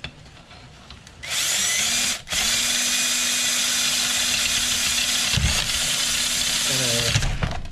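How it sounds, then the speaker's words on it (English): A power drill, used with copper to clean an antique bottle, whirs at a steady high pitch for several seconds, briefly dipping once, then stopping and restarting in short bursts near the end. "you have to have a pretty sharp drill bit and a decent drill."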